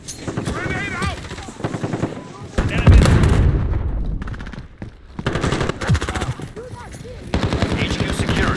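Call of Duty Modern Warfare hardcore Headquarters match: rapid bursts of automatic gunfire crack repeatedly, with a heavy grenade blast booming near the middle, while game voice lines and radio chatter play between the shots.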